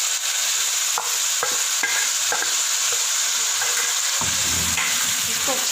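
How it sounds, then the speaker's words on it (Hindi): Chicken fries loudly with garlic ginger paste, salt, coriander powder and red chili powder, a dense continuous sizzle close up with repeated scraping stirs throughout. "इसको अच्छे से भून लेंगे।"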